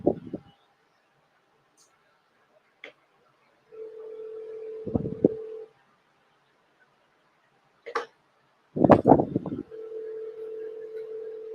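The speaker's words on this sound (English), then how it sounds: "I'm gonna try calling in from my cell phone." A cell phone places a call: steady dial tones come in two stretches of a couple of seconds each, broken by short clicks and brief bursts of noise, close and clear with no talk.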